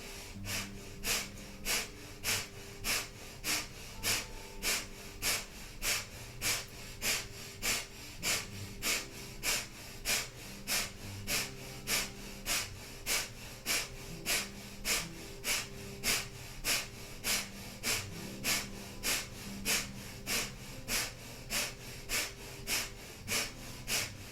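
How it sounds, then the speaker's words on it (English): Breath of fire in a kundalini yoga class: rapid, forceful nasal exhalations in an even rhythm of about two per second, sustained and close throughout. "powerful breath of fire"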